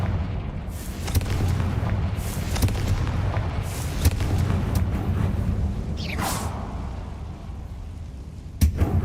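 Confringo fire spell exploding in the Hogwarts Legacy game, booming blasts and whooshing bursts over a continuous low rumble, with a sweeping swish partway through and a sharp hit near the end.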